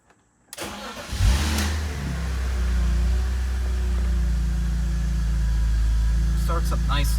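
A manual car's engine cranks and catches, then settles into a loud, steady idle that rumbles on alone.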